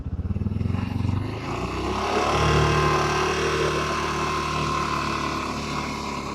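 A tractor engine runs close by on a wooded trail, giving a steady rumbling drone for the whole stretch with a slight rev change early on, and no talking.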